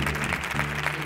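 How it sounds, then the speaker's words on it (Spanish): An audience claps its palms along in a steady, dense burst on a Spanish TV comedy show, under a lively crowd. "como este maravilloso público que va a tocar las palmas ahora"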